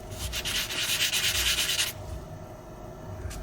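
Close, scratchy rubbing as peeling paint on a scale model is sanded, a brisk back-and-forth burst lasting under two seconds before it stops abruptly.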